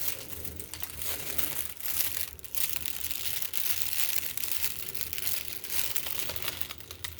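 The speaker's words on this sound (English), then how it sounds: "this can really help, as well as foil tapping and foil folding" Aluminium foil being tapped, crinkled and folded, a dense continuous crackling close up that runs steadily throughout with no voices.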